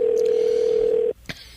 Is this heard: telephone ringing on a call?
yes